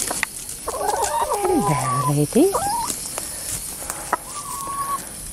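Backyard hens cluck and squawk close by in a run, a burst of rising and falling calls with one later short call, while a man greets them over the top.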